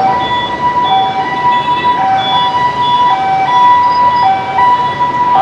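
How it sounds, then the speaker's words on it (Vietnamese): Ambulance sirens wail loudly with a repeating two-tone pattern on a crowded, busy street in Cholon, Saigon, during the Mid-Autumn Festival, continuous over dense traffic and crowd noise. "Ở đây lúc nào cũng nghe tiếng xe cấp cứu não nề."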